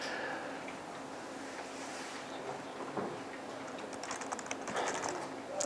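Someone types Python server code on a computer keyboard, with soft irregular key clicks that quicken toward the end. A faint broadband hiss sits underneath.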